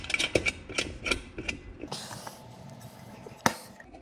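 Nut being tightened onto a Polaris RZR Turbo clutch during a rebuild, heard as a run of close metallic ratcheting clicks and taps, ending with one sharp knock.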